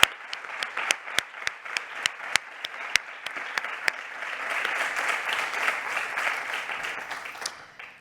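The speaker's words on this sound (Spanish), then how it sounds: "Vamos a dar un aplauso" A conference audience applauds at a plenary session, starting with a few distinct close claps that quickly swell into full, dense clapping from the hall, then fade away near the end.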